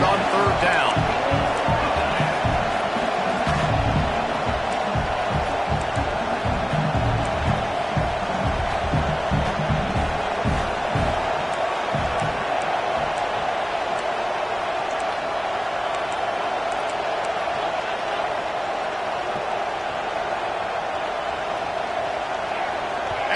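Stadium crowd roars steadily through a college football video game, loud and continuous, swelling early with rhythmic stomping or thumping beats before settling into a dense sustained din.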